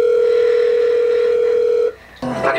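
A steady telephone dial tone holds for about two seconds inside a hip-hop track, then cuts off as louder music comes in.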